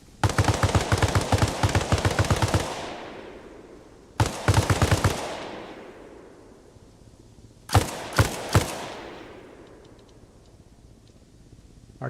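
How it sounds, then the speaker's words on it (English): Bursts of M60 machine gun fire in a video game: a long rapid rattling volley, then a shorter burst and a few single heavy shots, loud and close, each with a decaying echo. "seen one of the Soviets and is shooting at him with this, I believe that's an M60."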